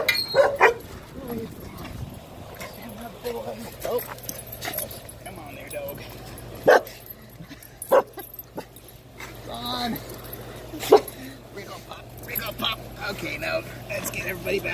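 A dog reunited with its owner after about four weeks away gives scattered sharp yips, barks and whimpers in a yard, while someone talks throughout.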